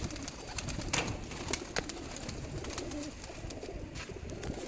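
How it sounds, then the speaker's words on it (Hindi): Ustad Binyamin's mixed-breed pigeons, kept as mixed pairs, coo steadily in a loft, their soft overlapping calls continuous at close range with a few brighter flutters and clicks. "ये भी जो उस्ताद बिनियामिन साहब के ये मिक्स कबूतर हैं जी"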